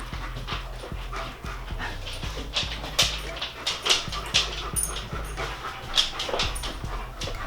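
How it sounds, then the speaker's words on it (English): A dog pants rapidly and whimpers close by, breathy rhythmic huffs broken by occasional high whines and yips, heard alone without talking. "That's my dog."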